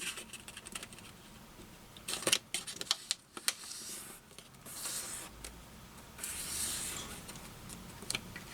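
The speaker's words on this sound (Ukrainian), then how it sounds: "Беремо листок, складаємо його вдвічі." A 14 by 7 cm sheet of paper is folded in half for an origami house, giving faint, close rustling and soft creasing scrapes with a few small crisp crackles.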